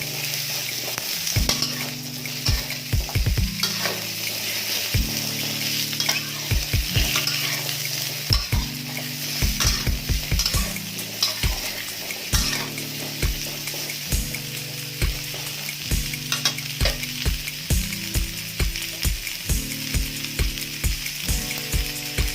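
Pumpkin pieces stir-fried in oil for a pumpkin-and-egg dish, a spatula scraping and tossing in steady, rhythmic strokes over a continuous close sizzle, with no talking.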